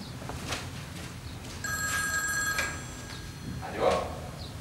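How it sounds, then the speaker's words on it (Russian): A telephone rings with bright, steady electronic tones in a couple of sustained bursts at moderate loudness, with faint room movement and no talk. "Минуточку, кажется, из аптеки звонят."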